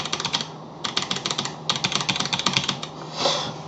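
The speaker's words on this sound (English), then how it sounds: "The spacebar is quite clacky." Roccat Vulcan 121 Aimo keyboard typing with a clacky spacebar: a steady run of close, crisp key clicks in quick bursts with short pauses, loud and alone, with no voices.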